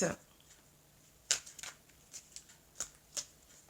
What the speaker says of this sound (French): je vais prendre maintenant les cartes d'Isawat.